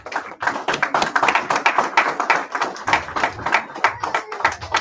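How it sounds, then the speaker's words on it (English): A church congregation clapping together in a hall, loud and close, a dense burst of many hands with a loose rhythmic pulse that keeps going throughout with no talking. "All right, y'all clap it up"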